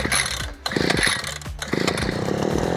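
A small two-stroke engine on a gas-powered earth auger sputters, catches and revs up loudly nearby, its rattling buzz rising and falling before settling into a steady run.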